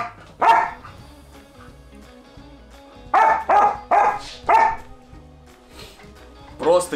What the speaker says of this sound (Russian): он обычно гавкает